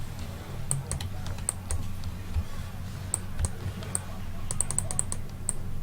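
Computer keyboard typing and mouse clicking during a game session, irregular bursts of sharp close taps and clicks over a low background hum.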